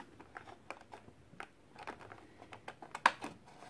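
A utility knife slices through the plastic and card packaging of a Mattel Legacy Collection Ellie Sattler action figure, giving a run of faint, scattered close clicks and scrapes with one sharper snap near the end.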